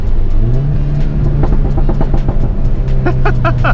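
Volkswagen GTI hatchback accelerating hard, its engine revving loudly and steadily close by, with a burst of sharp exhaust pops and crackles near the end.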